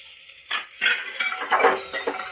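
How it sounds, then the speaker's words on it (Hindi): Garlic and onion hitting a hot pan of jackfruit curry, giving a steady sizzle and frying hiss with stirring scrapes that swell in bursts; no talking. "अब इसमें जाएगा लहसुन और इसी के साथ ही प्याज डाल देते हैं।"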